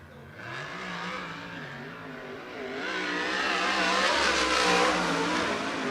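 USAC midget race car on track at Merced Speedway, its engine revving with rising and falling pitch as it works around the oval, growing louder and closer midway, with faint talk beneath.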